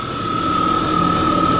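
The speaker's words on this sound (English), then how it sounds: "the car idles much better" A Chrysler Sebring 2.5 engine idles steadily after an EGR repair, a loud, close, even hum with a constant whine and no break across the whole stretch.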